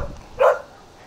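A dog shut in a car gives a single short, muffled bark partway through, standing out against a quiet background with no talk.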